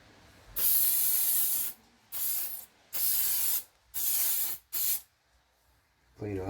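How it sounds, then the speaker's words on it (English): Brake cleaner sprayed onto a brake disc of a 2005 Ford Escape / Mazda Tribute, five loud, close hissing bursts of about a second each separated by short pauses, followed by a brief different sound at the end. "Clean off the disc with some brake clean."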